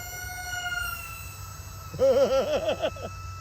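A Sky Viper Vector RC stunt plane makes a full throttle pass, its buzzing electric motor rising and wavering in pitch as it sweeps close by for about a second and a half after a quieter stretch.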